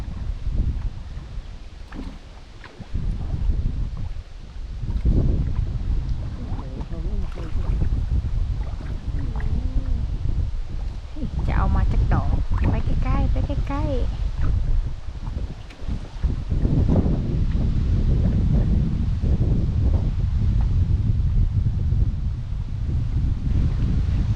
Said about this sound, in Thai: วันนี้ลมแรงเนาะ